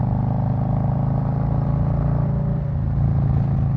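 A 2021 Snake Venom Road Glide Special motorcycle running with a steady, deep, throbbing engine rumble, loud and close, holding an even drone throughout.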